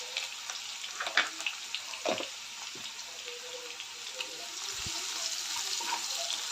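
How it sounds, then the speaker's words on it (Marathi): Onion sautéing with salt in a pan for dhaba-style chole gives a steady close sizzling hiss throughout, broken by a few soft clinks and scrapes of stirring, with no talk. "एक दोन मिनटं परतून घेऊया कांदा चांगला भाजलेला आहे"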